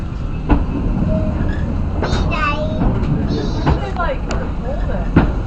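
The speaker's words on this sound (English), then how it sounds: "Welcome aboard the Lookout Mountain Incline Railway, the world's steepest passenger railway" The Lookout Mountain Incline Railway train in Chattanooga rumbles steadily along with squeals and clicks from the wheels, and people talk over the continuous running noise.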